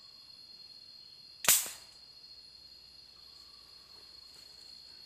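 A single sharp air rifle shot cracks out close by during a bird hunt, a brief loud report that fades quickly, with steady insect chirping in the background.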